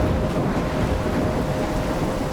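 Thunderstorm in the video game Life is Strange: a dense, steady roar of heavy rain and wind with low rumbling thunder, loud and continuous throughout, with no voices.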